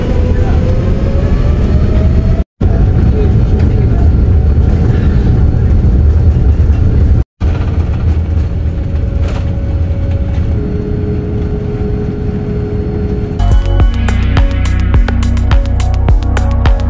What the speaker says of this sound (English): And now it's time for the takeoff.